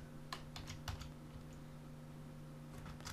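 Rapid, irregular keystrokes on a computer keyboard while code is typed, close and fairly quiet over a steady low electrical hum, with short bursts of key clicks and a few pauses.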